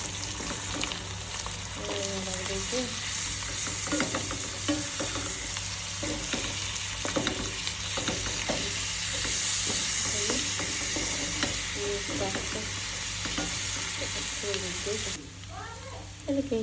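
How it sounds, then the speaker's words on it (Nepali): Garlic frying in hot oil with ginger paste for a Nepali chicken curry gives a steady, close sizzle with repeated scraping stir strokes throughout, then a brief quieter moment at the end. "मैले लसुन पनि तेलमा पाकोस् भनेर मैले लसुन पनि यसरी राख्दैछु"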